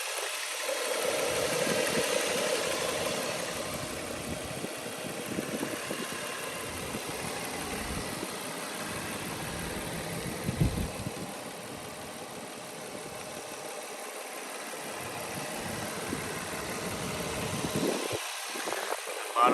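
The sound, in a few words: 2003 Nissan Murano engine idling quietly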